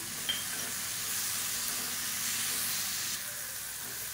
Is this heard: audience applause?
no